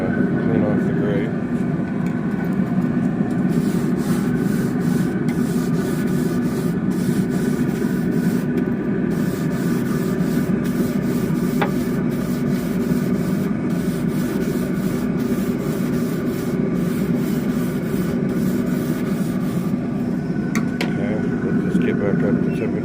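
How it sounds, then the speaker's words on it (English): A smoker grill grate being scrubbed clean, a continuous close rough rubbing and scraping for over twenty seconds, with a steady droning hum underneath. "Alright, so I'm going to clean off the grate."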